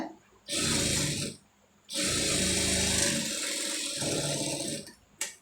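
A sewing machine stitches a sleeve joint at the armhole in two sustained runs separated by a brief pause, a loud whirring hum close by, then stops with a short click at the end.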